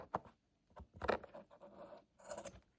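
Scissors or a blade cutting through the end of a rope for a decorated box: a few short, quiet scraping snips and rustles close by, with no talking.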